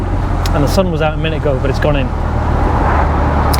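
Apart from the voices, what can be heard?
Porsche 912 driving top down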